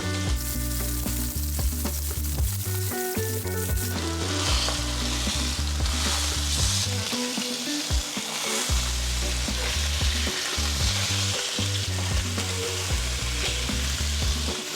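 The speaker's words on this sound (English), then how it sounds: "I press down the fish in the beginning just so that it gets a better sear and it lays more flat on the surface." A fish fillet sears in a hot frying pan with a loud, continuous sizzle and crackle, close up, while background music plays underneath.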